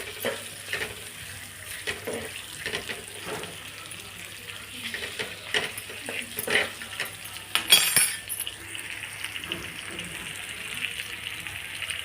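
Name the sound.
onions frying in oil with turmeric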